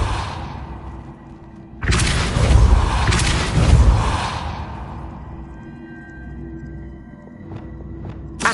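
A Repulsor spell is cast in Hogwarts Legacy: a sudden loud whooshing blast with deep booming rumble lasting about two seconds, then fading into quieter game ambience, with a short sharp hit at the very end.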